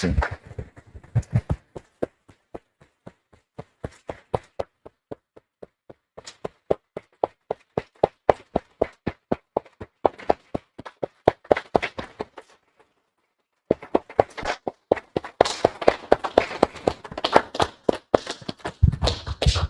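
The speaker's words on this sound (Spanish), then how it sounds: "Damos un aplauso, hermanos." Church congregation clapping in a steady unified rhythm, sharp distinct claps at a moderate distance, pausing briefly before resuming more densely with a few voices.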